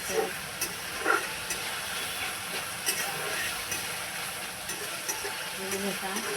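Tomato is stirred into fried onion in a pan for egg curry. A soft, steady sizzle runs throughout, with a few light scrapes and clinks from the stirring.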